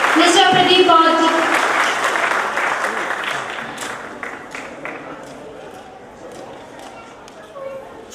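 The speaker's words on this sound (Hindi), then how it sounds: "तालियों से स्वागत कीजिए मिस्टर प्रदीप गौर जी" Applause from an audience at an Ambedkar birth anniversary celebration, greeting a poet as he comes up to recite. The clapping starts loud and dense, mixed with voices, then slowly thins and fades over several seconds.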